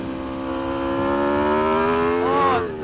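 A 200-horsepower Aprilia RSV4 RF superbike engine revs near 9,000 RPM, a loud, steady, rising mechanical whine that climbs in pitch and then drops off at the end.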